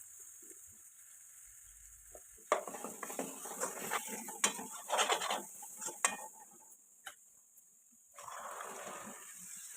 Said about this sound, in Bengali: খুব ভালো করে মশলা বাগার দিয়া ছানা ফেলাই দিলাম